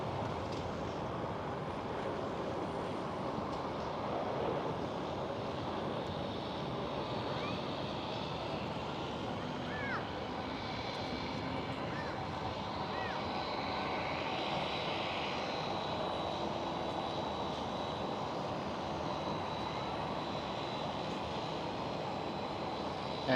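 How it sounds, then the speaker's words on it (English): A KLM Cityhopper Embraer E190 jet passes at Schiphol with a faint, distant roar that swells gently and then fades, set against steady wind-like outdoor noise for over twenty seconds. "There goes KLM Cityhopper E190."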